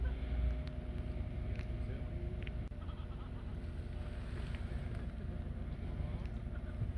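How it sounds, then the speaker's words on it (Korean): A 2018 Hyundai Genesis G80 with stalling, harsh shifting and warning-light faults idles in a workshop, giving a faint, steady low rumble throughout. "시동은 걸려 있는데 RPM 게이지가 안 올라가네요"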